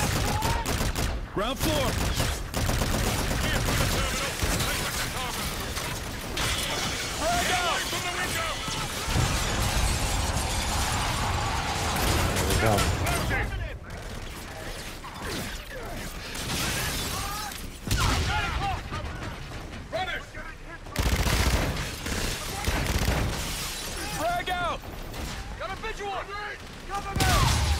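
Gunfire cuts down civilians in the Call of Duty: Infinite Warfare Operation Port Armor mission: sustained bursts of shots and shattering impacts roll on for the whole stretch, layered under shouted voices and dense game noise.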